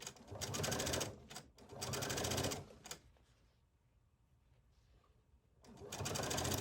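A sewing machine hems a Hawaiian shirt in several fairly loud bursts of rapid stitching, with a pause of quiet in the middle before the motor runs again.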